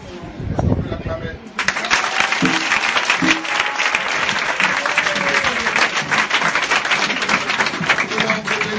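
A church congregation bursts into loud, sustained applause after a short stretch of speech, the dense clapping filling the space steadily and evenly, with a few faint voices and cheers mixed in.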